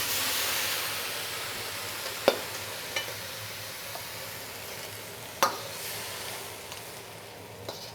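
Spinach and fried garlic stir-fried in a pan: a steady, loud sizzle fills the whole stretch, broken by a few sharp utensil taps against the pan.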